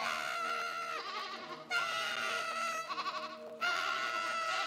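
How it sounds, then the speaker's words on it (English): A loud goat scream from the video game Cult of the Lamb, three harsh bleating cries separated by brief gaps, with a faint voice in the background. "goat scream"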